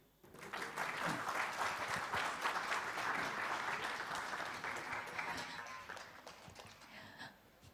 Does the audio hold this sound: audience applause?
yes